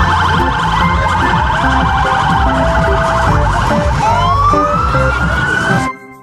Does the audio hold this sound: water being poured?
no